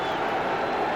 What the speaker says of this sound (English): Crowd comes alive and encouraging their Eagles